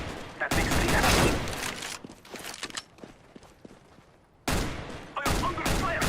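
Video game gunfire in dense bursts, loud rapid volleys at the start and again near the end, with quieter scattered shots and footsteps in between.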